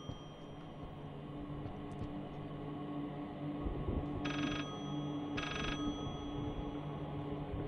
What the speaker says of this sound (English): A telephone!